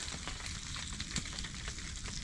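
Asparagus sizzles and fries in a pan over a woodland campfire during heavy rain, a steady loud hiss with faint crackles and pops throughout.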